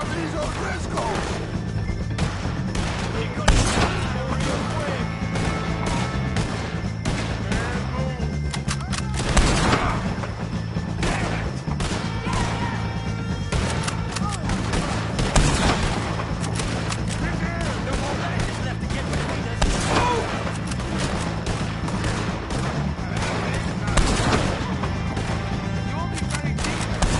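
Rapid gunfire fills a Red Dead Redemption 2 shootout with the O'Driscolls, with sharp shots and bursts cracking continuously over a steady rumble.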